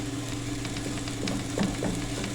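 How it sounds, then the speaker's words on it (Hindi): Spring roll filling with a spoon of flour dry-roasting in a pan, a steady near sizzle with soft scraping stirs and light taps rising toward the end. "उसके लिए हम इसमें डालेंगे 1 टेबल स्पून मैदा और इसको हमने अच्छे से भूनना है"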